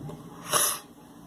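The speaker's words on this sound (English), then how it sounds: "I don't want to be sneezing and dying on camera." A single sharp sneeze bursts out midway, loud and brief, with quiet room noise before and after.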